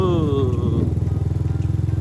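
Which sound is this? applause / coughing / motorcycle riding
motorcycle riding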